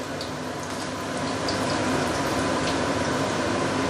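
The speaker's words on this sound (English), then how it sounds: "So I'm going to fry all the fats just now to make it crispy." Pork belly fat deep frying in hot oil, a dense, steady hiss and crackle that holds close and fairly loud throughout, with no voices.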